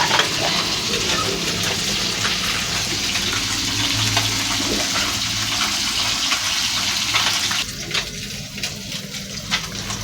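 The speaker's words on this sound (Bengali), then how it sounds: "মাছটা প্রায় ভাজা হয়ে গেছে," Small chanda fish frying in a pan, a steady, fairly loud broadband hiss of hot oil that carries on without a break and eases slightly near the end, with no talking over it.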